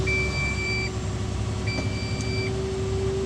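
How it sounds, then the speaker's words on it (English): Electronic beeping from a construction vehicle out on a job site: two sustained tones come on, cut off, then repeat over a constant low engine rumble. "I don't know what the beeping's about."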